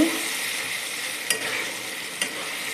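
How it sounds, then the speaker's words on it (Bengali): Spice masala for a jackfruit curry fries with a little water in a pan, giving a loud, continuous hiss and bubbling sizzle close by, with two brief stir scrapes and no speech. "অল্প অল্প পরিমাণে জলটা দিয়ে আমি মশলাটাকে ভালো করে কষিয়ে নেব।"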